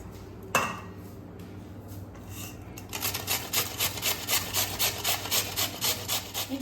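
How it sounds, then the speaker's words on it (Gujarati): Potatoes grated by hand for farali bataka bhajiya, a rhythmic rasping scrape repeating steadily and close, louder and more regular in the second half, with no talking. "આપણે બટાકાને છીણી લીધું છે"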